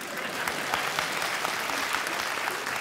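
Steady, dense applause from a live comedy-show audience fills the whole stretch at an even, sustained level with no voices standing out.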